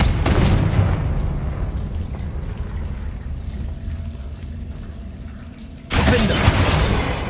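A fiery Confrigo spell explodes in Hogwarts Legacy during combat, opening with a sharp blast and then a long, low rumbling decay. A second loud, broadband burst hits near the end.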